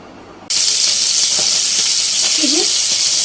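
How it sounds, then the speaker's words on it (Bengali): Fish frying in a pan bursts into a loud, steady, close hiss that starts suddenly and holds throughout, with a brief voice sounding faintly beneath it near the end. "ডাল রান্না হয়ে গেছে, মাছ ভাজা বসিয়ে দিয়েছি।"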